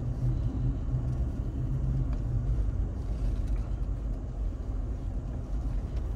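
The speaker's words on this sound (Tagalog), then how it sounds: "Oh, nakabalik na sila oh, yung truck." Low rumble of a truck driving back at a campground in the USA, a steady engine drone at moderate distance with a faint hiss of background noise.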